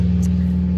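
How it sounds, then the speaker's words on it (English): A motorcycle passes on a nearby road as a steady, moderately loud low engine drone, holding even through a brief moment with no talk. "right now, a motorcycle's going by on the road"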